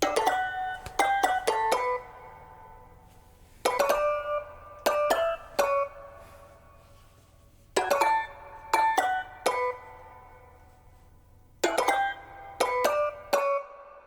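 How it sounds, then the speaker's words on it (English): Ringing glassy taps form a melody, fuller and more reverberant than dry tapping, in short phrases of three or four notes over a soft low hum. "for this xylophone melody, I went with this glass jar"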